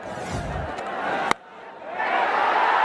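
A stadium crowd roars at a Bangladesh vs West Indies T20 cricket match, broken by a sharp single crack. The cheering briefly drops, then swells again, with a commentator's voice running over it.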